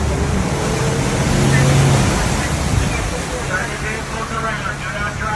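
A delivery vehicle pushes through deep flood water on a New Jersey road, a loud rushing churn of splashing water and engine rumble, close by, with a voice talking over it.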